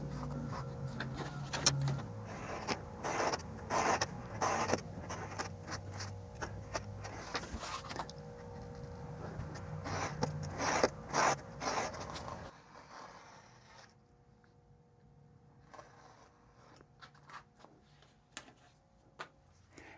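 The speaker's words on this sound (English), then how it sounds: "Now we'll just cut this simple shape out of a piece of leather." Knife or shears cut through a piece of leather with close, scratchy rasping strokes and clicks in an uneven rhythm; the cutting grows quieter and sparser in the final stretch.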